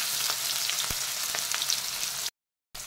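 Sliced onion hits hot oil with mustard seeds and cumin, a dense, loud sizzle with scattered pops, close up, before cutting abruptly to silence near the end.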